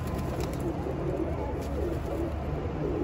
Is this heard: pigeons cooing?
yes